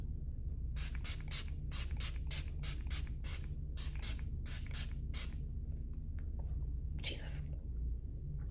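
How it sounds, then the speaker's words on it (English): Makeup Revolution ceramide Fix Skin Protect fixing spray misted onto a face in a run of about a dozen short, close hissing bursts, then a pause and one or two more sprays, with faint soft voice underneath. "I'm spraying my face with the ceramide Fix Skin Protect Fixing Spray from Makeup Revolution."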